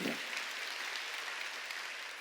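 Congregation applause during a Wednesday church service, a soft, even spread of clapping from a crowd heard at some distance, faint and steady throughout with no voices standing out.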